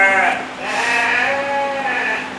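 Sheep in a pen before feeding bleat loudly and continuously, several overlapping voices calling close by with no pauses.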